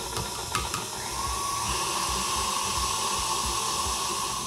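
An electric mixer whirs steadily while mixing gluten-free gingerbread cupcake batter, a continuous close motor hiss and hum running alone throughout, with a few brief clicks near the start.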